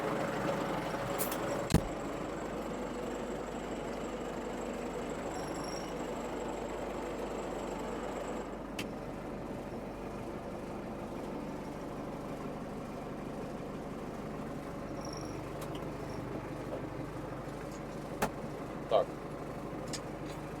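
An MTZ 892 tractor engine runs steadily in reverse gear, a constant low mechanical drone throughout, with a few brief clicks and knocks near the start and end.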